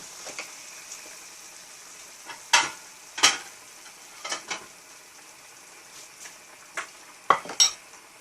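Chinese kale with pork being stir-fried in a pan, a faint continuous sizzle broken by sporadic sharp scrapes and clicks of a spatula against metal, close up with no talking.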